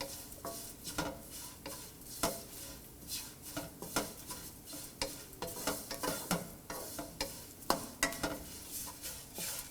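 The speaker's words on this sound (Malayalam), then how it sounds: "ഇതിങ്ങനെ കൈയെടുക്കാതെ ഇളക്കിക്കൊണ്ടേയിരിക്കണം." Grated coconut and fennel seeds roast in a pan for a shrimp theeyal, with a spoon steadily scraping and stirring against the pan over a faint, continuous sizzle.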